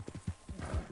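Several soft horse hoof clip-clops at a walking pace from Red Dead Redemption 2, quiet and evenly spaced, with no talking.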